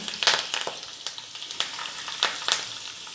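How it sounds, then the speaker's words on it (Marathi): Cumin and mustard seeds with curry leaves crackling in a small pan of hot oil, a faint steady sizzle broken by sharp pops and spits scattered through the clip. "त्यामध्ये 1 चमचा जिरे व मोहरी टाकून घेणार आहे."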